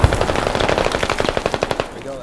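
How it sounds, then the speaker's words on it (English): Rapid, steady machine gun fire in the military shooter video game Squad, a fast rhythmic stream of loud close shots that runs the whole time, with a brief heavier boom at the start. "there's still an MG hiding right here somewhere"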